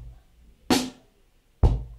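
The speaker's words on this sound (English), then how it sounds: "This is going to be more of a drum groove, basic drum groove." A basic slow drum groove: two sharp, loud drum hits about a second apart, a kick and a snare, each decaying quickly into near silence.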